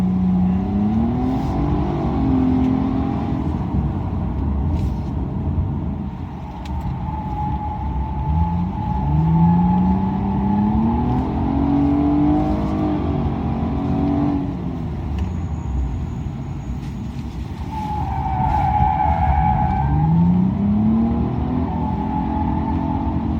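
A Nissan Maxima with a CVT accelerates flat out on a race track, its engine droning loud and steady from close by and rising in pitch through repeated simulated shift points as it powers out of corners.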